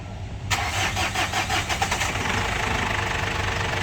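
A Ford Captiva diesel engine, unused for two years, cranks with the starter and fires into a rough, knocking idle, loud and close, after a brief hiss.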